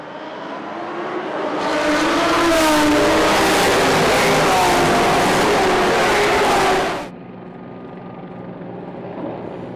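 Lamborghini Gallardo GT race cars at the Dunlop 24H Dubai roar loudly past behind the safety car on their warm-up lap, a dense, sustained engine swell for several seconds that drops off abruptly, leaving a fainter engine hum.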